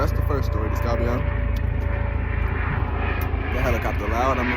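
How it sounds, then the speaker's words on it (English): Steady, loud engine roar from an aircraft overhead, droning throughout with a person talking over it. "The helicopter loud"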